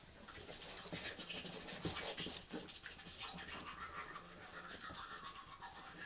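Four-week-old puppies play in a nursery, panting quickly with scratchy shuffling and small chewing noises, close up and fairly faint.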